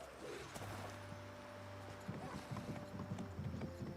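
Horse hooves clip-clop in a steady, fairly loud trotting rhythm inside Disney Dreamlight Valley, with a low sustained tone and faint background game ambience, no voices heard.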